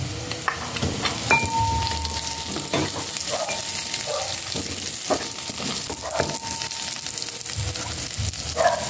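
Chopped onions sizzle and spit in a frying pan of hot oil for a pork pinakbet, a steady close frying hiss with occasional stirring scrapes and clinks throughout.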